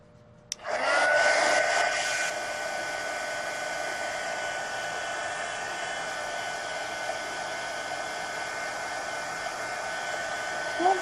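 Hair dryer blowing steadily on a wet watercolor wash, starting with a click and loud burst, then holding a constant whirring airflow until the end.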